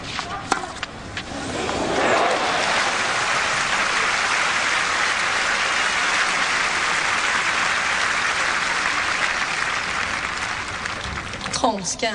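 Tennis crowd at a 1999 Graf versus Seles semifinal bursts into sustained, loud applause after a backhand drop shot, the clapping swelling quickly and holding steady before tapering at the end.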